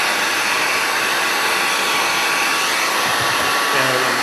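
A hair dryer blows steadily and loudly throughout, heating vinyl wrap being applied to a battered old vape mod, with a few soft handling bumps near the end.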